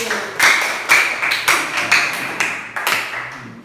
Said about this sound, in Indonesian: Kita tepuk tangan dulu buat Puji